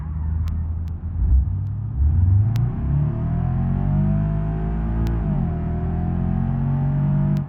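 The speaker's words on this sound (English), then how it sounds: "And then the RPMs come right back down." A bus engine in BeamNG revs up with a rising, rumbling whine, holds high, then the RPMs fall back to a steady lower drone, loud and continuous throughout with no talk.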